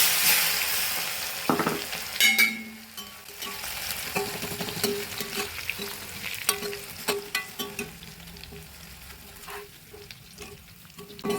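Deepavali snacks frying in hot oil with skins left on, a continuous crackling sizzle with irregular scrapes and clinks of a ladle against the pan, close up and without speech.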